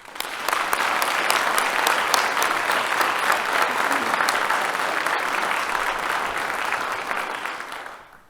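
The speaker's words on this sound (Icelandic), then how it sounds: "Ég bið alla hér í salnum og hér á sviðinu að klappa fyrir ykkur sjálfum, samnemendum, kennurum og starfsfólki VFMA." An audience at a graduation ceremony in Hof breaks into loud, sustained applause, many hands clapping densely and evenly for several seconds before quickly fading out.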